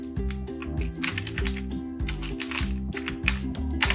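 Typing on a computer keyboard: rapid, steady keystrokes, close and clear, with no speech over them.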